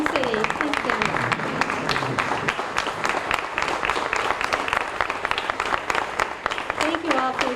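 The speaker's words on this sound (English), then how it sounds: "stand up so we can give you a round of applause" Sustained round of applause from a crowd at a volunteer appreciation breakfast, dense clapping throughout with a voice speaking over it.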